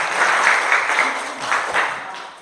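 Applause from a classroom of students in a teaching session, a warm burst of many hands clapping together, fairly close and steady before fading slightly.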